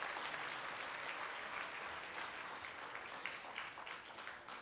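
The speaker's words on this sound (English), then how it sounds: "let's give those people a nice round of applause" Steady round of applause from a banquet audience on a campus in Fort Collins at a 4-H awards night, dense clapping holding fairly even throughout, moderately distant and a bit faint.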